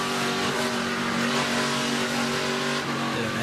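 Onboard race car engine at speed in an ARCA Menards Series race at Daytona International Speedway, a loud, sustained high-revving drone with steady harmonic tones, held constant throughout.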